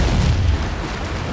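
Missiles explode in the mech combat game MechWarrior 5: Mercenaries, a heavy, rumbling boom that rolls on without a break for the whole brief moment.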